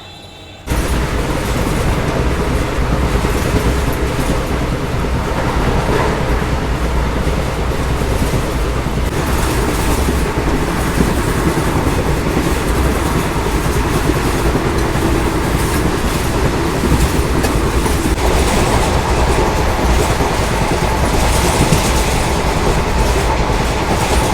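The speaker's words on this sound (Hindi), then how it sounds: "अपना ट्रेन आया है 1 मिनट डिले के साथ" A passenger train on an Indian railway rolls into a small halt station on its route from Bangalore: a loud, continuous rumble and clatter of wheels on rails, close by and steady throughout, with no talking.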